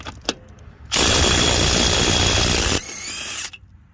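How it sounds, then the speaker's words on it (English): A Dewalt Atomic DCF921 half-inch-drive stubby impact wrench loosens a one-inch lug nut, giving one loud, continuous burst of hammering that runs for about two seconds and then eases off before it stops. "Half-inch drive impact, rated for 450 foot-pounds of breakaway force."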